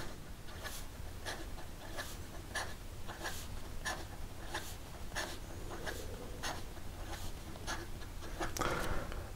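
An S.T. Dupont Shakespeare fountain pen scratches quickly across paper in short repeated strokes, faint and close, with a brief rustle at the end.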